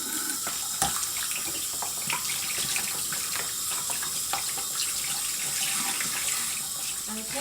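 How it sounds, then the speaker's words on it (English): Steady running water splashing while hair color is rinsed out, a continuous close hiss with small irregular splatters and no talking. "So I'm going to go ahead and just wash the rest of this out."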